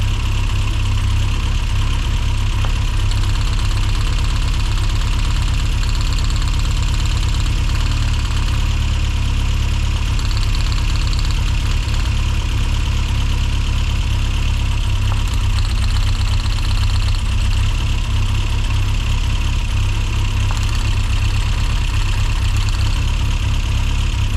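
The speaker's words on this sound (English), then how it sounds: "Number 3, you can hear it misfiring now." A Mini Cooper S Sport 5 engine idles roughly with a misfire on cylinder 3, giving a steady, close, continuous drone with faint uneven knocking underneath and no voices.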